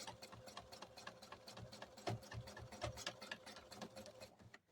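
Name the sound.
sewing machine doing free motion quilting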